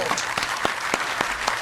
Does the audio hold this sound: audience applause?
yes